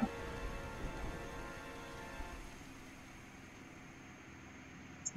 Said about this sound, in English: Wow, this rain is going away real quick.